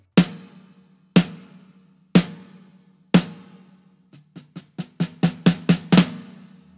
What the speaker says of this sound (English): two mini muffs as muffling, the snare is almost ready.